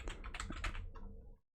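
Close, quick typing on a computer keyboard, a rapid burst of clicking keystrokes that stops abruptly into silence.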